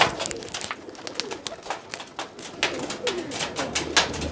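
Pet pigeons coo repeatedly in soft, throaty bursts, several birds overlapping close by amid a light background hiss.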